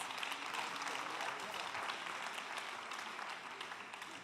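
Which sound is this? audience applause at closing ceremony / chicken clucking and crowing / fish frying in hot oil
audience applause at closing ceremony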